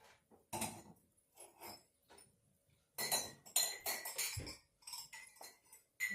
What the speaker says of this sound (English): That is the glass for water. This is the glass for the wine.